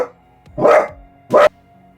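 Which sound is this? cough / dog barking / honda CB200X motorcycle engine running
dog barking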